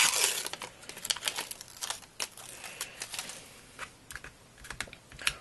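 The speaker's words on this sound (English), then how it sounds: "So again, peel the divider off" The divider backing is peeled off duct tape during a sword-tip repair, producing close, crisp crackling ticks and small rips in an irregular run, with a louder crinkly burst at the start.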